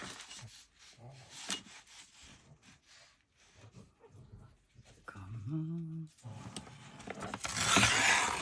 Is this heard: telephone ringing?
no